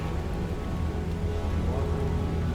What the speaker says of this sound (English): It's cold and raining.